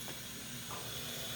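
Steady steam hiss escapes a pressure cooker full of shredded chicken for tacos, a continuous broadband rush at moderate level that runs without pause from start to finish.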